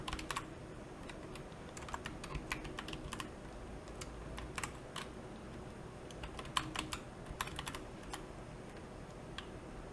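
A file name is typed on a computer keyboard in irregular bursts of crisp, close key clicks with short pauses, running for about ten seconds over a faint steady background.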